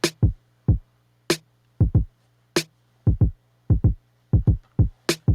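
Programmed kick and snare groove with deep, punchy kicks and sharp snare hits in a syncopated pattern, dry and close with no other instruments under it.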